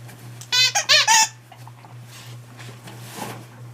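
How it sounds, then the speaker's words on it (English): A stuffed dog toy's center squeaker squeaks in a quick burst of several loud, close squeaks, followed by quiet handling noise over a low steady hum. "it's got a squeaker in the center filled with a bunch of stuffing"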